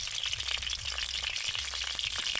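Beaten eggs seasoned with salt and turmeric sizzle steadily in a hot pan, a continuous close crackle with no talking.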